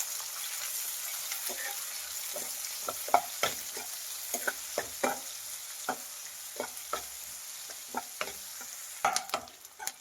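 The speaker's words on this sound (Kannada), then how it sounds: "ಈರುಳ್ಳಿ ಫ್ರೈ ಮಾಡಿ ಚೆನ್ನಾಗಿ." Finely chopped onions fry with fennel and cumin in a pan, giving a soft, steady sizzle broken by frequent sharp scrapes and clicks of a stirring spoon, close and moderately quiet, with no talk.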